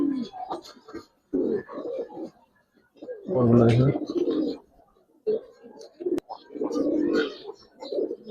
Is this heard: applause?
no